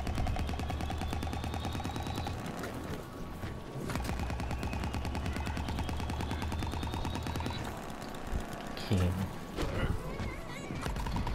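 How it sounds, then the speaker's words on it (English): A football launcher fires rapidly in Plants vs. Zombies: Battle for Neighborville, a steady stream of close, rhythmic shots over a droning game soundtrack, with brief pauses and a few bursts near the end. "Better not let my football launcher overheat."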